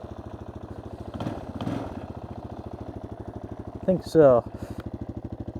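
An old four-wheeler idles with a steady, throbbing engine pulse while loose rack bolts rattle along with it. Someone talks briefly over the running engine, and a short burst of clatter comes near the end.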